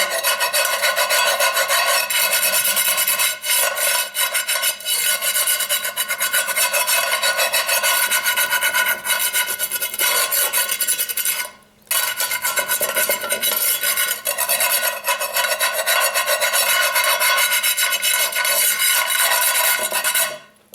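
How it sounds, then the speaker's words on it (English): Steady, loud rasping scrub of a chainmail-style scrubber worked over a ridged cast iron skillet, continuous close scraping with one brief pause midway and no voices. "Keep scrubbing away with the Sir Scrubbington."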